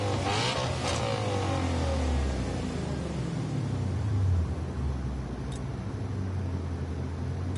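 A car engine roars and revs steadily, a continuous loud rumble with rising and falling pitch, with no voices.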